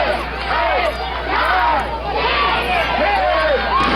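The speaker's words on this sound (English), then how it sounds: "A series of right hands as the crowd chants along" Crowd at an outdoor street-fair pro wrestling show chants rhythmically together in short rising shouts, a loud close chorus of many voices repeating in time over a constant low hum.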